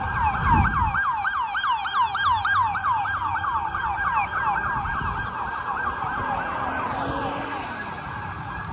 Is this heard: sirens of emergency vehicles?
yes